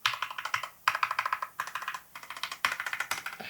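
Fast, continuous typing on a mechanical keyboard with cheap Temu linear switches, with bright clacky keystrokes in dense runs broken by brief gaps, recorded up close.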